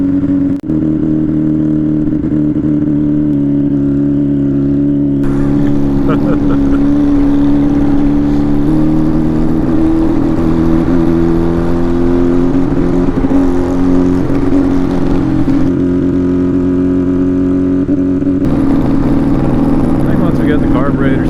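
A Honda Dream motorcycle engine runs steadily while being ridden on a cold night, a loud continuous drone with small shifts in pitch, close to the rider and alone without talk.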